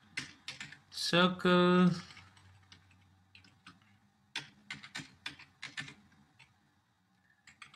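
Typing code on a computer keyboard, scattered bursts of light key clicks at a quiet, close level, interrupted early by a short spoken word and faint talk.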